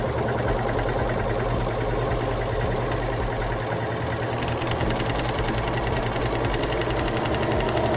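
Singer serger machine running a 4-thread overlock stitch, a continuous fast mechanical whirring and rattling hum that stays loud and steady throughout with no voices.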